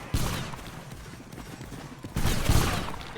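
Rifle fire in a video game: dense crackling volleys that burst loudly near the start and swell again later, with a steady noisy battle din in between and no voices.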